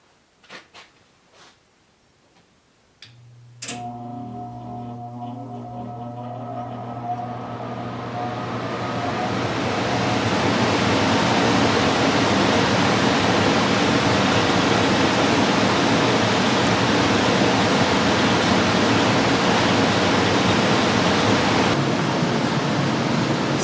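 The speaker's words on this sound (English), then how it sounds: "Man, that water is hot going through there." Hot water rushing through a pipe in a farmhouse, starting after a few faint knocks and a hum, then swelling into a steady, loud, broadband hiss that continues for about twenty seconds.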